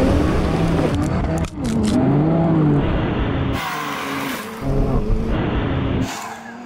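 A BMW and a Porsche launch off-road using launch control, engines revving with rising and falling whines and roaring as they accelerate away, loud and close, with surges of gravelly noise.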